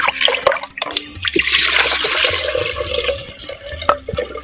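Rice-washing water poured into a clay pot for banana flower rasam, a gushing, splashing pour close by with bubbling and sloshing, tapering into drips.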